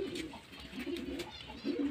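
Domestic pigeons sitting close by give soft, low, repeated coos in a quiet setting, the calls coming in short rhythmic bursts with no voices.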